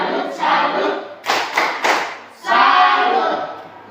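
Group of people doing an Indonesian 'tepuk salut' clap chant, with several short bursts of loud, close clapping separated by brief pauses and a longer final round.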